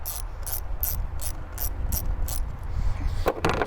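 A 10 mm socket ratchet loosens an ignition coil bolt on a 2016 Kia Forte 5 2.0L, giving about eight close, evenly spaced clicking bursts, then a short pause and a denser pair of clicks near the end.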